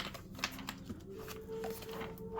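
A deck of tarot cards is shuffled by hand during a reading, giving a quick, close run of soft riffling clicks and papery flutters at low volume with no talking.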